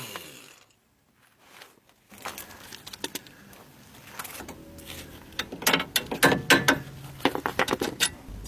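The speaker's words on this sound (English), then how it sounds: "Remove the nut of the lower ball joint bolt." Mechanic loosening the nut on a lower ball joint bolt during front wheel bearing replacement, close metallic ratcheting and clicking in irregular bursts that grow denser and louder toward the end, after a quiet start.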